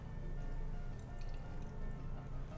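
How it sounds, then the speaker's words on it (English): A small splash of water goes into the corner of a baking tray holding salmon and sliced potatoes, giving a soft, steady trickle and drip that lasts a couple of seconds, close and quiet. "Just a tiny bit of water in a corner, not too much."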